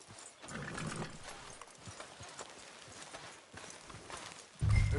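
Horse hooves clip-clop steadily in a video game street scene, a busy layered patter of steps at moderate distance, ending with a sudden louder low thump.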